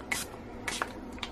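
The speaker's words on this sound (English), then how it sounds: "I'm going to spray the top with some alcohol." Several short, soft hissing bursts from a spray bottle misting alcohol onto the top of fresh soap, spaced irregularly in a quiet room.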